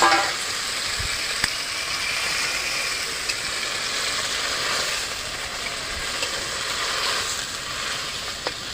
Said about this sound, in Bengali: বাটনার জলটা দিয়ে দেবো।